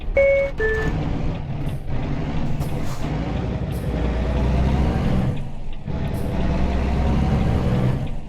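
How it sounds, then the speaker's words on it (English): A truck in American Truck Simulator cruising on an interstate with an automatic transmission, its engine drone shifting pitch as gears change, with two short beeps near the start and a steady low rumble throughout. "You can hear the truck switching gears. Got that automatic going on."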